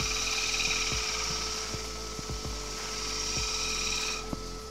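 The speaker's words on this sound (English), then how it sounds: "Spin the lathe up and give it a little bit of a buff." A wood lathe spins an ash vase while wax is buffed off its surface, giving a steady motor whir and hiss with a few light knocks and clicks throughout.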